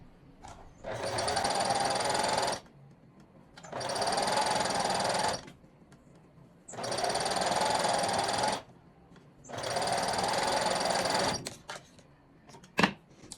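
A sewing machine stitches a side seam of knit fabric in four sustained runs of steady whirring, each a couple of seconds long, separated by short pauses with faint handling sounds.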